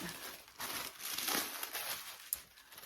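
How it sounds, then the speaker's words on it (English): Soft paper crinkles and rustles as packaging around a Gucci item is slid out, a quiet, close, continuous crumpling with a few sharper crackles. "I don't want to tear the paper, so I'm gonna slide it out the side."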